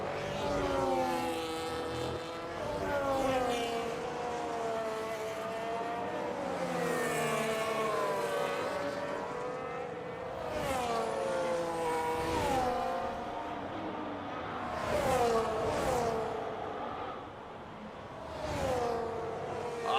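F1 2026 racing cars lapping Imola in a video game, engines wailing with rising and falling pitch as cars pass and shift, a continuous loud drone of several cars close by, occasional whooshes of cars going past.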